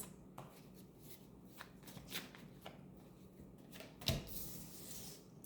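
Tarot cards being shuffled by hand, soft papery riffles and taps coming in quick, quiet bursts, with one sharper snap near the end, close and alone.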